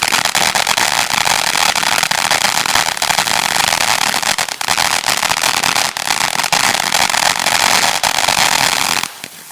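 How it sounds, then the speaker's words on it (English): A firework fountain spraying continuously, a dense loud crackling hiss with scattered sharp pops throughout, cutting off near the end. "I've never actually seen this fountain go off before"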